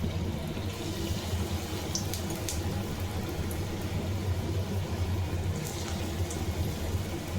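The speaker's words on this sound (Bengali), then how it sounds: "এবার একে একে পকোড়াগুলো ছেড়ে দিচ্ছি।" Cabbage pakoras frying in hot oil in a wok, a steady dense bubbling sizzle that holds evenly throughout, close and continuous with no talking.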